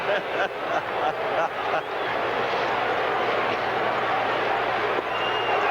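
Baseball crowd at a Cubs at Pirates game roaring in a broad, steady wash of cheering that swells slightly early and then holds loud and sustained, with a faint murmur of voices inside it.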